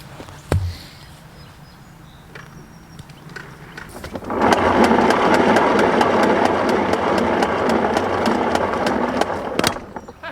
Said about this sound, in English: I'm gonna give a good tug on the old hose here, and I'm just gonna let it go.